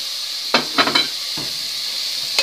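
Chopped onion sautéing in extra virgin olive oil in a pan, a steady sizzle with a few short scraping stir strokes near the start and one at the end, close and moderately loud, no talking.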